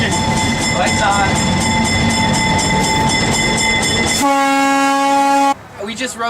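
A heritage train on the New Hope Valley Railway rumbles past loud and close with steady rail clatter, then sounds a long, sustained horn blast near the end before the noise drops away.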